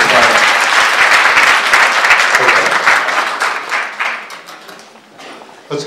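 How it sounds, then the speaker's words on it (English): A room full of people claps in strong applause, loud and dense at first, then tapering off into scattered claps over several seconds. "Round of applause for your leadership and planning."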